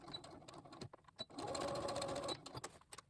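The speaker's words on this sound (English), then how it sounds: "You want to back stitch it and then go back and forth." Sewing machine back stitching back and forth over a face mask's elastic strap, with a steady mechanical whir from about 1.4 to 2.3 seconds between short bursts of stitching and brief clicks.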